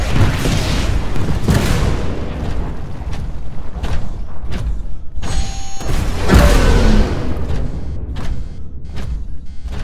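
Rocket blasts and heavy mechanical impacts in the video game Titanfall, several loud booms landing in irregular succession over a constant rumbling, clanking din.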